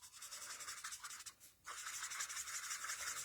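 A colour lifter rubbing marker ink off a card, giving steady close scrubbing strokes in a soft, rhythmic hiss with a brief pause midway, quiet and alone.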